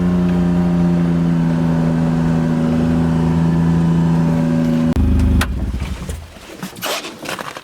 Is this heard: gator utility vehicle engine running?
yes